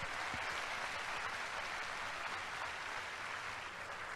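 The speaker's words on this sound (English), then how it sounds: "Please, let's greet them with a big, big round of applause." Steady applause from a crowd gathered at a cruise ship naming ceremony, a dense, even wash of clapping that holds at moderate loudness throughout with no voices on top.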